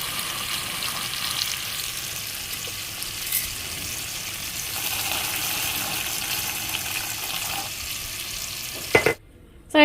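Pan-fried pork chops sizzle in a pan with a steady, fairly loud hiss and crackle that continues for several seconds, then a brief clatter near the end before the sound abruptly cuts out.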